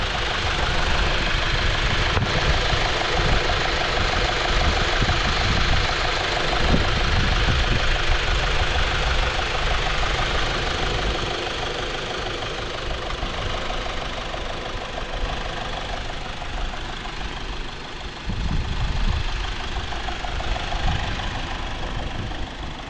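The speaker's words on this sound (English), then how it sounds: "this engine's running here. You can see it's just nice and quiet." A Honda Civic Si engine idles steadily and quietly, a smooth continuous hum heard close up with no talking over it.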